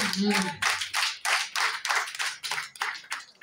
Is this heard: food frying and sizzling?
no